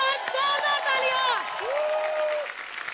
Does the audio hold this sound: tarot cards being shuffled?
no